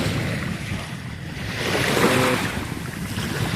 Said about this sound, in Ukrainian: І от ми вже на березі.